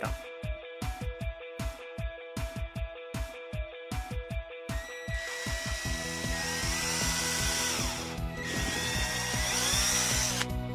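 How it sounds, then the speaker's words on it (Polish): A small electric drill with a 1 mm bit whirs in short repeated bursts, then runs continuously with a rising, grinding whine as it bores through the middle of a cork, close by. "po środku korka wiercimy otwór wiertu 1 mm"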